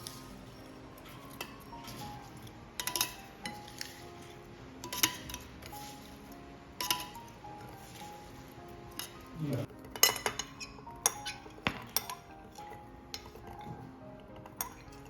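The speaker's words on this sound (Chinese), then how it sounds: "把瀝乾的小米和切好的南瓜塊一起放入預熱好的保溫杯。" Drained millet and chopped pumpkin pieces drop into a preheated thermos cup, giving scattered light clinks and taps of food against metal and a spoon, soft and close, with quiet rustling between the knocks.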